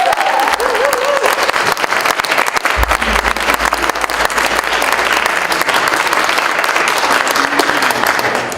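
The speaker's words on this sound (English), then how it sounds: "I'd like a round of applause now for our..." The crowd at a small-town candidate forum in Pownal breaks into sustained, loud applause lasting several seconds, a dense even roar of clapping with faint voices mixed underneath.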